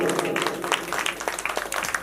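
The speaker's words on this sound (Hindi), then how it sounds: "अगर जरा भी आनंद आया आपको एक बार दोनों हाथ उठा के ताली बजाएं आप लोग इस परिवार के लिए" Audience applause at a Mata ka Jagran, a Hindu devotional night gathering: a dense, steady wash of many hands clapping for about two seconds, holding level before thinning into looser, scattered claps.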